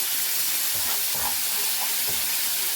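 Coriander drops into hot tempering oil with curry leaves for dhokla, giving a loud, dense hiss and crackle with a few sharper bursts of sizzle and spatter.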